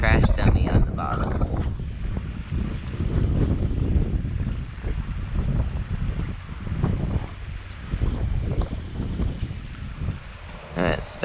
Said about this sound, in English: And it's starting to get windy.